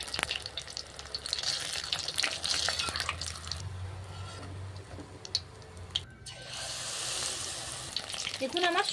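Bok flower fritters sizzle in hot oil with a steady crackling hiss, punctuated by light stirring clicks and a brief gap midway, close and fairly quiet with no voices.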